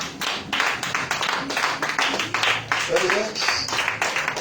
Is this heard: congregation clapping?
yes